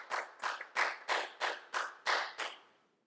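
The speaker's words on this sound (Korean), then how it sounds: "우리 하나님께 영광의 박수 드리겠습니다." Eight sharp, evenly spaced claps ring out at a church worship service, then fade into a short echo. They are moderately distant and sound like a few hands clapping together, with no voices.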